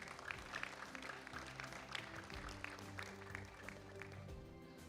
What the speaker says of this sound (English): Let's give a round of applause for Benjamin.